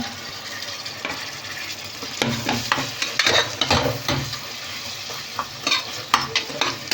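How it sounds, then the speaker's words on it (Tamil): Tomato and green chilli frying in a pan for Bombay-style mutton curry, a steady close sizzle broken by irregular scraping stirs and a few louder clatters, with no talking. "இப்போ இந்த டைமில் நம்ம தக்காளி ஆட் பண்ண போகிறோம்"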